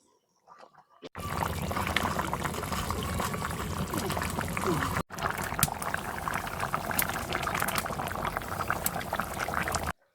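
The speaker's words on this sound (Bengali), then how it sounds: "মো ফুটে গেছে, ভেজে নেওয়া বড়ি গুনা দিয়ে দিলাম।" A mixed vegetable curry with pangas fish boils steadily in a pot, a dense continuous bubbling and simmering that starts abruptly after a brief quiet moment, with a short break midway.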